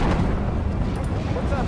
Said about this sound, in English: Gun ready. Nice shooting, Gunner.